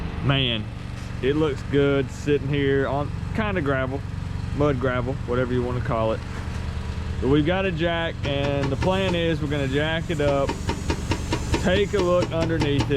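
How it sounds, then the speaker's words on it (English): Air compressor running in the background beside a 1970 Mustang Mach 1 parked on gravel, a steady low mechanical drone with hiss underneath someone talking throughout. "You can hear the air compressor running in the background."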